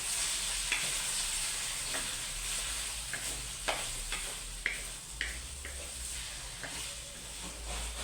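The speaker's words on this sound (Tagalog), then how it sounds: "Gigisa na natin yung ating pinakbet." Pork sizzles and fries in a pan, the first step of pinakbet, with a steady hiss under scattered scraping and stirring clicks from a utensil, close and continuous with no talking.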